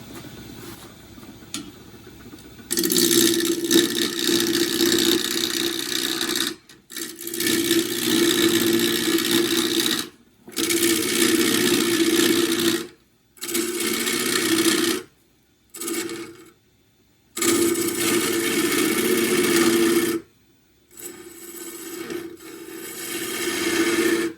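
A wood lathe turning a jarrah pot blank, starting slow and spinning up in repeated bursts of steady mechanical whirring with a rattling hum, broken by short silences as the machine is stopped and restarted, loud and close.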